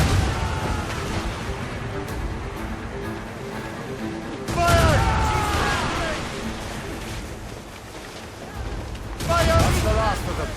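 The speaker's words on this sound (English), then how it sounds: "They can fire many volleys." Volleys of gunfire in the naval game Assassin's Creed Rogue, with heavy booming bursts arriving in two loud waves several seconds apart over a continuous rumble, while voices talk.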